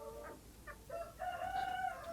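Chickens on a poultry farm cluck and call in a few short, quiet bursts that lead into a longer, drawn-out crow-like cry.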